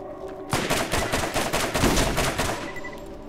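Rapid bullets are fired in a close, loud string of shots. The volley starts suddenly after a quiet moment and runs for a few seconds before tapering off.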